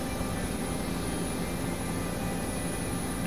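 A steady, unbroken rotor-and-engine drone from a helicopter in the video game ARMA 2 fills the clip at constant loudness with no pauses and no voices.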